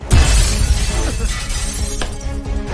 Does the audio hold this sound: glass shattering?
yes